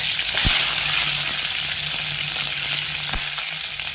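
Curry leaves, dried red chillies and garlic fry in hot oil for a chutney, giving a loud, steady close sizzle with a couple of sharp pops and spatters.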